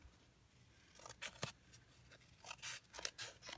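Scissors trimming paper for card making, a series of short crisp snips in quick irregular bursts, close and fairly quiet with no talk.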